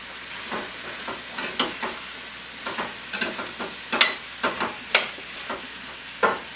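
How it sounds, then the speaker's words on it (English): Food frying in a pan on a medium-high burner, a low steady sizzle punctuated by about a dozen distinct stirring scrapes and clanks of a utensil, close and fairly loud. "I'm going to continue to stir."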